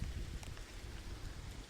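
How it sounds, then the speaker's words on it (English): Steady rain falls outside a library at night, a soft continuous low rumble of rainfall with scattered faint drop taps, heard alone without voices. "The rain continues."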